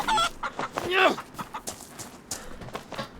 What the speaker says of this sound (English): Sorry, my chicken punching skills are not up to par.